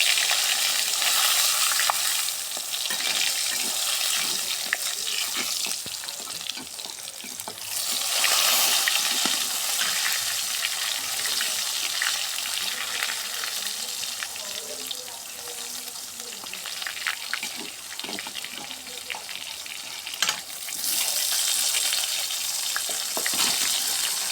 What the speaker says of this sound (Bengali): আমরা এবার বেগুনটা দিয়ে দিলাম তেলে।